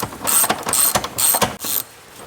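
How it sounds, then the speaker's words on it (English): A ratchet wrench undoing the bolts that hold a car's fuel tank, loud close clicking bursts repeated in a few quick runs, no talking. "And now we can start undoing the bolts for the tank."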